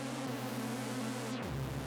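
An Elektron Syntakt Swarm machine with detune at 127 and animation turned up gives a thick, swarming drone that sounds like insects buzzing over a noisy hiss, then slides down to a lower, steadier pitch.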